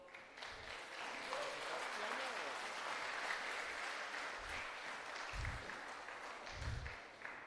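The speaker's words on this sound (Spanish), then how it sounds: "¿Qué tal si le damos un fuerte aplauso al Señor?" A church congregation applauds in a continuous, fairly quiet wash of clapping, with a few low thumps and murmured voices mixed in.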